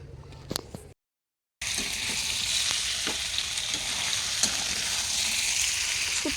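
Dried fish, shutki, sizzles steadily in a hot pan, a loud close crackle and hiss of oil that starts abruptly after a brief silence and carries on without pause, with faint clinks of stirring.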